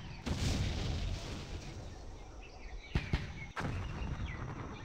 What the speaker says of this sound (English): These light 60 mortars probably won't do anything.